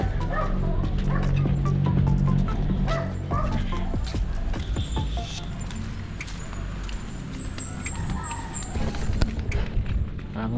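A dog barks repeatedly in sharp yips and bow-wows, now and then whimpering, fairly close and loud, with people talking intermittently around it.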